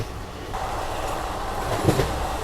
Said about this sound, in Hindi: बाकी ट्रेन कंटिन्यूस 110 की रफ्तार में चल रही है।